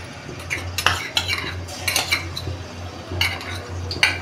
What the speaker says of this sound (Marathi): आता तेल तापलं का आपण आलं लसूण मिरचीची पेस्ट टाकूया.